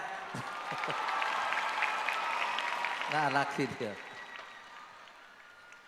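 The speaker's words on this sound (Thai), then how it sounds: "ขอเสียงปรบมือให้คุณประเทืองหน่อยฮะ" An audience applauds the singer after a performance at a weekly Academy Fantasia concert, the clapping a steady wash running beneath a host's talk.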